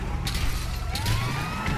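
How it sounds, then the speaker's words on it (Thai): A police car siren wails in the Grand Theft Auto V video game, a steady rising tone set against loud engine rumble and traffic noise. "มีรถตำรวจนี่ว่า"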